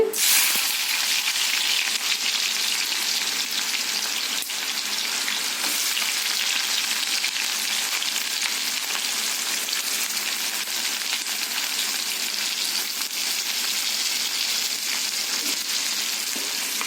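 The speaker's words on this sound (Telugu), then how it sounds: "ఈ విధంగా ఆయిల్ వేడి అయ్యాక మనం కట్ చేసుకున్న ఉల్లిపాయ ముక్కలు వేసుకోవాలండి" Chopped onions frying in hot oil, a loud, even hiss that holds steady and close for the whole stretch, with no speech.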